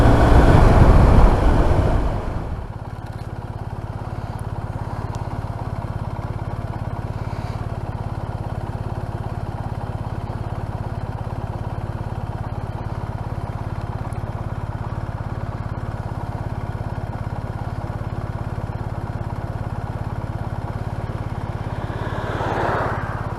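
BMW R1250RT motorcycle on the move: a steady engine drone with heavy wind roar, loud and continuous after a brief burst of buffeting at the start, with no talking.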